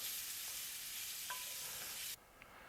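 Bacon frying in a pan as its fat renders, a steady quiet hiss that cuts off abruptly near the end, with a soft clink partway through.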